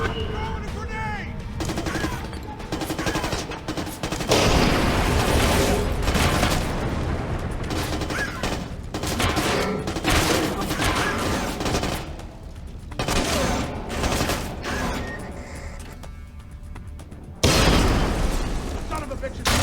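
Gunfire and a grenade blast in Splinter Cell Conviction's Deniable Ops Hunter mode at the Yastreb Complex, unsuppressed weapons firing in dense, loud bursts with booms throughout, under frantic shouted talk.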